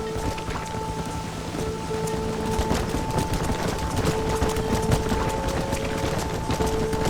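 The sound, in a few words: rain and thunderstorm in video game Red Dead Redemption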